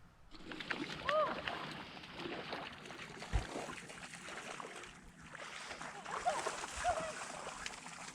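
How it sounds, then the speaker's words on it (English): A motorboat's steady engine rumble with water rushing and splashing against the hull, and voices chatting faintly over the noise, near the mouth of the Ogeechee River at the Atlantic Ocean. "we went out on the boat and did a little boat ride"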